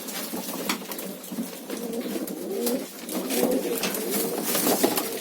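Young pigeons cooing softly amid a flock, with rustling wing flutters and outdoor background noise, fairly close and continuous.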